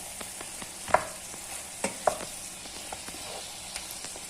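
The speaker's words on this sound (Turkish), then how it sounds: "Şöyle bir güzel karıştıralım arkadaşlar yemeğimizi." Sautéed beef stirred with red pepper flakes, black pepper and cumin in a pan, giving a steady close sizzle broken by a few sharp spoon scrapes and knocks, with no talking.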